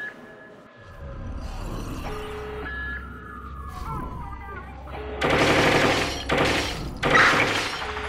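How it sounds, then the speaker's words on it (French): Gunfire in the video game Watch Dogs 2: bursts of rapid automatic shots in the second half, loud and close, separated by short gaps, following a quieter stretch of game ambience with tonal effects. "On reçoit des tirs."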